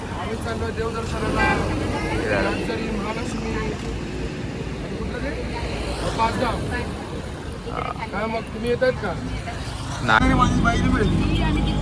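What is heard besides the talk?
auto rickshaw ride in traffic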